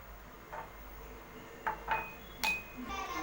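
Mint lemon juice is poured into a glass jar for serving, with a few faint clinks and taps of glass and utensils against a quiet background.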